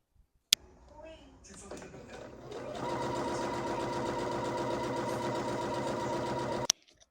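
A home sewing machine hemming the sleeves and bottom of a short-sleeved garment: after a click and some handling noises, the motor whirs into a steady, even stitching hum for several seconds, then stops with a sharp click.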